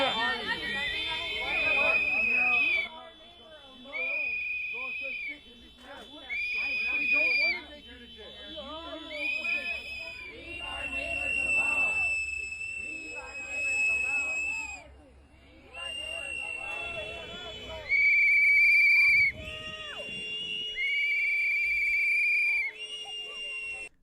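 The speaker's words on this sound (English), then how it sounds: "I apologize about the whistles." Shrill whistles blast repeatedly at a protest where federal agents confront a crowd, long piercing notes sounding in bursts near the listener, mixed with shouting and crowd voices.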